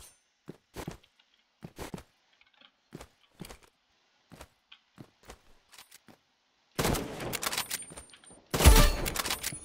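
Gunfire in the video game Rivals, sniper rifle shots: a steady run of sharp, evenly spaced cracks, then two long, loud, dense bursts near the end.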